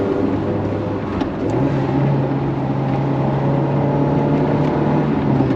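Steady engine drone from a small FIAT Seicento city car with a 1.1 litre petrol engine driving on the road, heard from inside as a constant loud hum with no speech.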